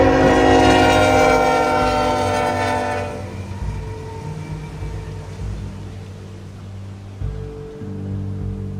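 A train passes a railroad crossing in the rain, sounding loud, sustained horn tones for the first few seconds before giving way to a low rumbling roll of wheels and cars, with a brief bump near the end.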